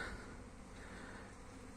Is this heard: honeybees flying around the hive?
yes